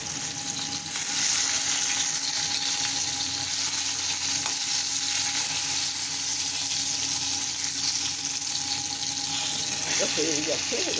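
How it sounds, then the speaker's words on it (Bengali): Eggplant with a little salt fries in oil, a loud, dense, continuous sizzle close by that holds steady throughout, with faint voice-like traces near the end. "বন্ধুরা, এই যে আমি বেগুনটা ভেজে নিচ্ছি একটু নুন দিয়ে।"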